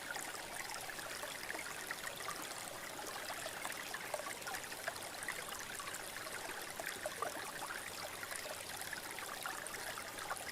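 A river stream flows steadily and close by, a continuous rushing, trickling wash of water with no voices, holding an even level throughout.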